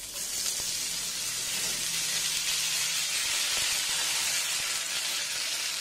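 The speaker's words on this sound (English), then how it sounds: "Now the wok is hot, so we will put the potato to fry first." Potatoes frying in a hot oiled wok produce a loud, steady hissing sizzle that holds evenly for several seconds, close up, with faint scraping from a wooden paddle underneath.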